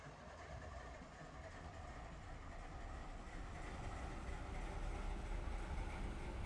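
A BNSF freight train led by an ES44DC locomotive in Run 8 Train Simulator backing up, heard as a steady, dense rumble of rolling cars and engine that slowly grows louder throughout, with no talking.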